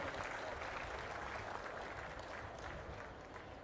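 Crowd at an outdoor political public meeting in Achanta applauding, a broad sustained clatter of many hands heard from a distance, steady and then easing slightly toward the end.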